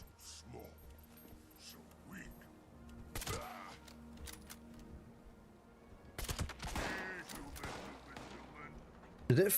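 Gunfire in a Fallout-style wasteland video game: several sharp bursts of shots, including from a short pump-action shotgun, at moderate loudness amid low ambient noise, with a louder burst at the end.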